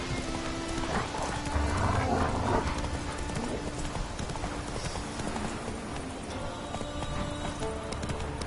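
Horse hooves clip-clop steadily in a PS4 video game, joined by an occasional neigh, over a continuous bed of game ambience and music.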